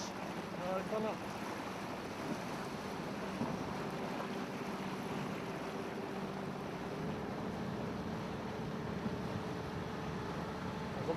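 A boat pushing through slush ice in a harbour inlet at Höfn, Hornafjarðarós, gives a steady low rumble with grinding and churning water noise under wind, continuous and fairly close for the whole stretch.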